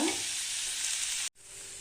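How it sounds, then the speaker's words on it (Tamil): Carrot sautéing in ghee for a carrot sabudana payasam, a dense close hiss of sizzling fat that runs steadily, cuts out abruptly for a split second, then resumes slightly softer. "இதே நெய்யிலே அந்த கேரட் போட்டு வதக்கிக்கலாங்க"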